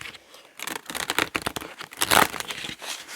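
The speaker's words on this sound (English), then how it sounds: "These are not too easy to shuffle. They're very stiff." Stiff tarot cards riffle and slap together in quick uneven bursts, a crisp papery shuffling heard up close with no talking.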